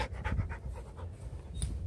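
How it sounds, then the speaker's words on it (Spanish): Small dog panting close by, a quick rhythmic series of breathy huffs repeating steadily for a couple of seconds, fairly quiet. "Por acá anda un perrito."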